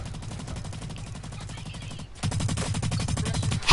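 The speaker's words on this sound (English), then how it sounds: "Headshot, I just got a headshot." Rapid automatic gunfire from a first-person shooter game, a steady rattling stream of shots that pauses briefly and resumes louder and denser, close up.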